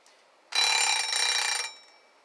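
A vintage 1964 WestClox wind-up alarm clock rings with a loud, bright metallic bell rattle lasting about a second, then stops, leaving a brief fading ring.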